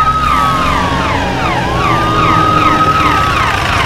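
Police car siren from a film police station scene, a loud continuous wail rising and falling in long sweeps with the engine rumbling underneath, no talking.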